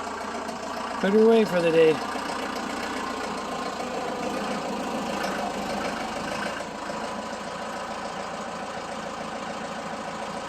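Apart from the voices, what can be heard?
Kubota M105S tractor engine idling while parked in barn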